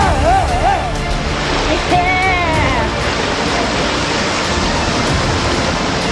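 Raft running fast water rapids on the Flathead River in Montana, with a loud continuous rushing roar of whitewater and voices calling out over it.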